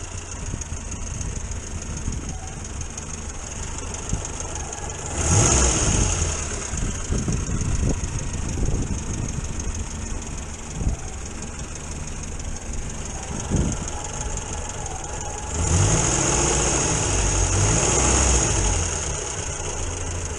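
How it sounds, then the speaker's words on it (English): A 1962 Morris Minor engine idles steadily with the choke off, a continuous close mechanical hum that swells louder twice for a few seconds. "I did turn this down the other day because it was really warm and George was revving over like crazy."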